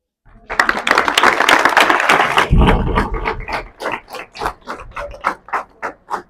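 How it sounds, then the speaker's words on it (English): An audience at a school menstrual hygiene sensitization day breaks into a dense, loud burst of applause that thins into a steady rhythm of individual hand claps, with a faint voice in the background. "Clap for her again."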